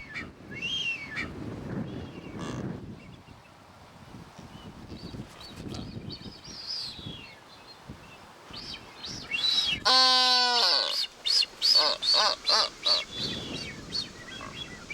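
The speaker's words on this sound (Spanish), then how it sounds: "Aves como estos piqueros de patas azules o las que anidaban sobre las rocas debieron ser los primeros en procrear en Galápagos" Blue-footed boobies call on the Galápagos Islands with faint scattered calls at first, then a close burst of harsh, honking, rhythmic calls repeating several times near the end.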